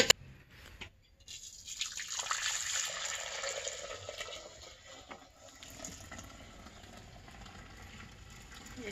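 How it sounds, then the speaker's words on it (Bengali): Hot boiled milk is poured from a pan into a pot, giving a steady liquid pour and splash that starts after a short knock and tapers into softer trickling, close and fairly quiet. "এবার পাতিলে ঢেলে দিব।"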